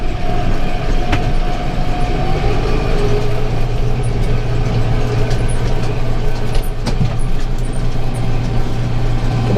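A hay baler runs off a tractor PTO at about 360 RPM in a hayfield, giving a steady loud mechanical drone with a low constant hum and occasional sharp knocks, and no voices.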